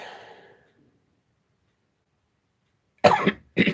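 One short cough sounds up close in a quiet room, followed by a second brief burst after a pause; a faint breathy trail fades at the start.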